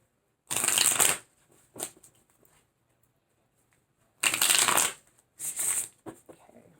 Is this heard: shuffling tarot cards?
yes